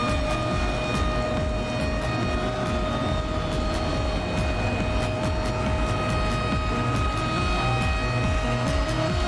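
Dirt track race cars at Eldora in a World of Outlaws event throttling up together, a sustained loud engine drone with steady tonal whine and rumbling pulses, distant and continuous without any talk.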